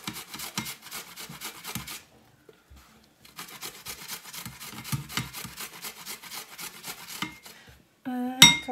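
Fresh ginger is rasped against a grater in a kitchen, giving repeated scraping strokes in short bursts with a brief pause midway, close by, and a sharp metallic clink at the end.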